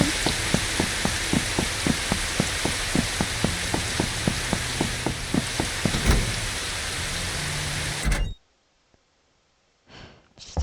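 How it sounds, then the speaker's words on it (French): Rain falls in the video game Mimesis as a steady hiss, with regular footstep-like ticks over it, then cuts off abruptly into near silence before brief sounds return. "Non, non, pas la pluie!"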